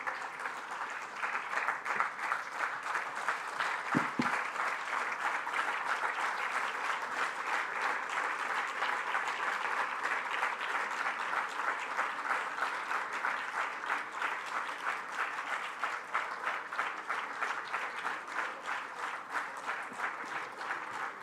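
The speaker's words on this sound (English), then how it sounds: "a huge, huge round of applause for this inspirational oration" Sustained applause from a large audience of students after a memorial oration, steady and dense clapping throughout with a brief thump early on.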